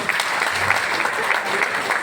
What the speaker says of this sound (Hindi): एक ग्रेट वेलकम के साथ आप लोग जोरदार तालियों से स्वागत करें।